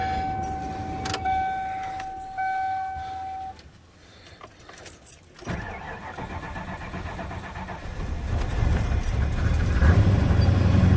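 Keys jangle briefly, then an old truck engine, unused for about six months, cranks and catches, rumbling up louder and rougher as it settles into a running idle.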